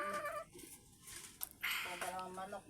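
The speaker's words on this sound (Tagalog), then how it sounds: "Dalawang manok, mga Texas to." Texas chickens clucking on a farm at feeding time, short bursty calls close by, mixed with someone talking nearby.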